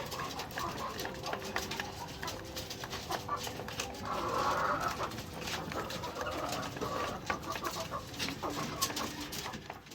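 A flock of feeding chickens clucks and coos continuously, a busy sound with scattered louder calls over steady background noise.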